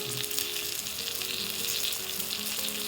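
Trout frying in a lidded pan, a dense, even sizzle held close and constant with light crackle and a faint stir, no voices.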